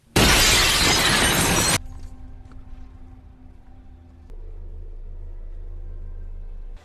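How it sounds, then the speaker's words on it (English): A glass panel is smashed in a zombie movie, giving a loud bright shatter that lasts under two seconds and fades into a low hum and quiet ambience, followed by a steady low rumble. "They then break through a glass panel to enter the mall."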